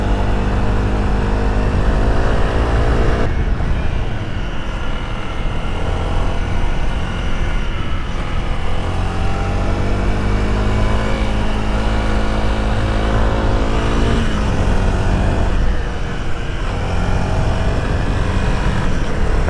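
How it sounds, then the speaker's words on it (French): A motorcycle engine running with a bad-sounding, rough note on a mountain road trip, a loud sustained drone with shifting pitch as it revs up and down. "Le moteur il fait un sale bruit"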